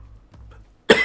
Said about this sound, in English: Told you I had a bad cough.